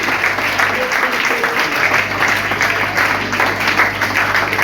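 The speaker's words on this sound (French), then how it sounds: "Est-ce que maintenant tu peux l'acclamer?" Congregation at a Sunday church service applauding and cheering, dense sustained clapping with crowd voices mixed in, loud and steady throughout.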